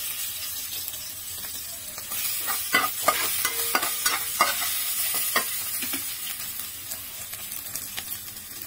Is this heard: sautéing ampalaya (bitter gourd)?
yes